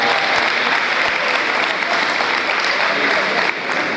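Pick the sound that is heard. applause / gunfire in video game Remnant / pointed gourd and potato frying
applause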